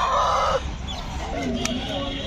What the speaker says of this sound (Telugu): ఇంకా చాలా పుంజులు అయితే ఉన్నాయి ఇక్కడికి